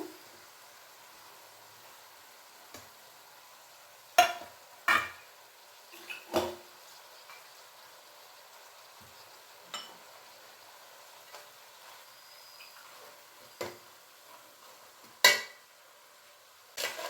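A spoon scrapes and knocks against a pan while mixing a thick boiled potato filling for aloo samosa, sparse isolated clinks and scrapes spaced a few seconds apart over near-silence.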